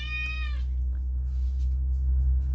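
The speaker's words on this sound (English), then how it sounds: "That was my cat, if you heard that," A pet cat lets out one clear, loud meow close by, a single drawn-out cry over a low steady hum indoors.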